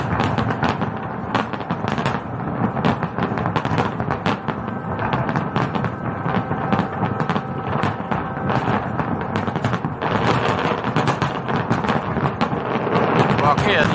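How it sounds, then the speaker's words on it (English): Fireworks bursting in a long, dense run of crackles and booms, steady and loud throughout with no clear pauses. "Time to celebrate with fireworks."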